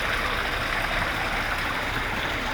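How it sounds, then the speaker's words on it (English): A small waterfall in an indoor botanical garden conservatory sends up a steady, dense rush of falling water, constant and fairly loud with no breaks and no voices. "so there's this mini waterfall here."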